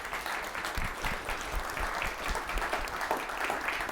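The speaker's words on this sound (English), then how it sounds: "Round of applause for Charles." Applause at a morning session of an academic conference day, a moderate spread of clapping from a room audience, steady and somewhat distant for a few seconds.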